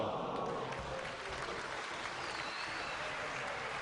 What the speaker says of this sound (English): Lovely warmth of applause